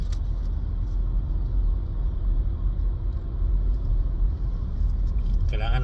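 Low road rumble and engine drone from a moving car with manual transmission, heard steadily from inside the cabin, with faint voices in the background.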